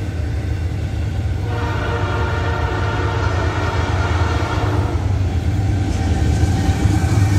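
A long Norfolk Southern freight train rumbles past close by while its horn sounds one sustained blast for several seconds, then the steady roll of the cars carries on alone.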